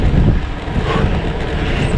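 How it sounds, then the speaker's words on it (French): An icy headwind rushes across the microphone while bikepacking on a cold morning in Flanders with snow still on the ground: steady loud broadband wind roar with low buffeting gusts throughout, no voices. "Un petit vent glacial de face"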